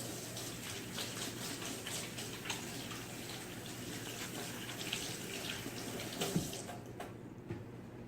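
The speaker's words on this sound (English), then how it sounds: "Do a quick rinse of my hands." Hands being rinsed under a running kitchen tap, a steady close splashing flow of water with small irregular splashes, continuing alone before cutting off near the end.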